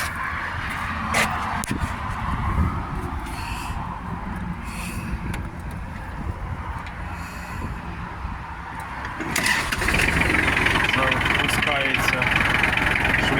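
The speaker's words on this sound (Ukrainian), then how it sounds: "Робимо пуск двигуна." A Kubota GL32 tractor's diesel engine rumbles at idle, then revs up louder near the end with a rough mechanical clatter; a voice speaks briefly over the engine noise.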